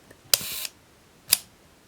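A Rollei 35 film camera's lens barrel is pulled out and locked, giving a sharp mechanical click with a brief rasp, then a second crisp click a moment later, close and clear.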